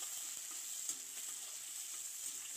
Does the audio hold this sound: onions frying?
yes